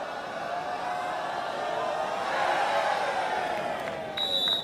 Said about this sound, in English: Crowd getting involved here.